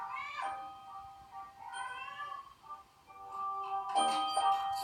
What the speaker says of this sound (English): They know what the cats on TV are saying.